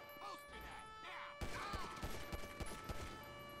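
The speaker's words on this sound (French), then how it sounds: "Centrale, des coups de feu!" Gunfire in the video game GTA V during a police shootout, a burst of sharp, loud shots after a brief quiet stretch, several cracks in quick irregular succession over a steady background hum.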